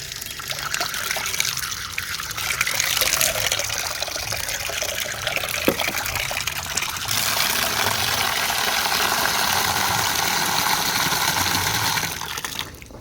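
Water, or a watery mix in it, is poured onto the soil around a cherry tree plant, a steady splashing trickle that runs loud and close for over ten seconds without speech.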